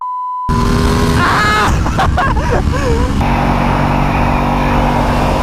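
A Ducati motorcycle engine revs loud and close while riding, a steady roaring drone with a brief rising pitch sweep partway through, running continuously from just after the start.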